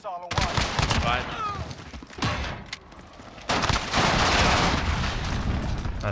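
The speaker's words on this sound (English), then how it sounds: "Allied cruise missile away." A cruise missile strike in Call of Duty Modern Warfare lands as a heavy roaring blast and rumbling wash of noise, loud and sustained, mixed with scattered gunfire and voices talking over it.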